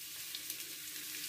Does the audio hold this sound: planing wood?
no